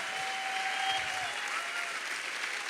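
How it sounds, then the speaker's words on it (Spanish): A church congregation applauds the worship team after a praise set, a steady dense wash of clapping filling the room at moderate level, with a faint sustained tone running underneath for the first half. "Un aplauso a los chicos, a las chicas"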